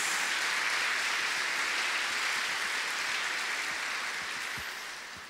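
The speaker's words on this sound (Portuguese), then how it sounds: "Vamos dar uma salva de palmas no nome de Jesus, glorificando esse servo de Deus." Church congregation applauding at an evening service, a steady, dense wash of clapping held throughout, slowly fading toward the end with no talk over it.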